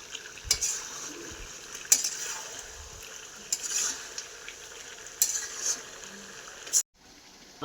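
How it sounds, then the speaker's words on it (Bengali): Chicken pieces are stirred and browned in a hot pan, with sharp metal spatula scrapes and clinks every second or so over a soft sizzle, close and without talk, cutting off abruptly near the end. "এখন চলছে মাংসটা কষার পর্ব"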